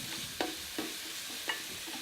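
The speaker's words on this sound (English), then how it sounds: "So I've been frying this up" Steady hissing sizzle of onions frying in a pan, with a few soft clicks from stirring, no voices.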